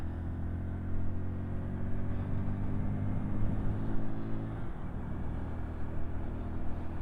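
A 2022 Honda C125 Super Cub pulls away uphill in second gear, its small single-cylinder engine giving a steady, close, low hum that climbs in pitch partway through over wind noise.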